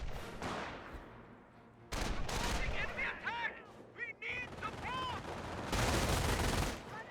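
Bursts of rifle and machine-gun fire from a Company of Heroes battle, including an M242 autocannon firing on a US rifle squad, with Volksgrenadiers and snipers engaged, dense and loud with brief pauses, layered with whistling effects.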